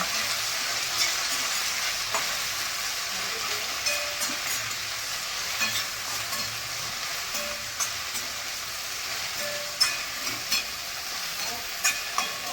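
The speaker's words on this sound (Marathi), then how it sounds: "भेंडी घालून घेऊ तेलामध्ये चांगली परतून द्यायची" Okra fries in hot oil in a pan with a steady, close sizzle, broken by light scraping and tapping as it is stirred, growing a little more frequent toward the end.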